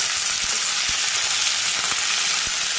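Chopped okra sizzles steadily in hot oil in a pan, with several dull knocks of a spoon stirring it through the bright, continuous frying hiss; no one speaks.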